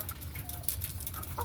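Chickens on a small egg farm clucking and shuffling in a steady, busy chorus, fairly close, with scattered higher calls over a continuous low rumble of the flock.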